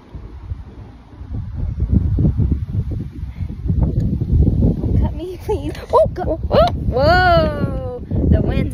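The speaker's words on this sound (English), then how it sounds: "the wind's out of control" Strong wind gusts roar steadily outdoors during an outdoor haircut, a loud broadband rumble throughout, with people talking and a high rising vocal exclamation partway through.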